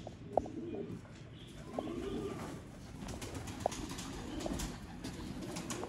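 A Lal Pari pigeon pair coos softly, with low faint calls and a few brief chirps against quiet background noise.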